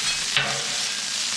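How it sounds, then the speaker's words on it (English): French fries frying in bacon grease, a steady close sizzling hiss with a brief louder burst near the start as they go in, then an even crackle with no talking. "Now it's time to put on our French fries."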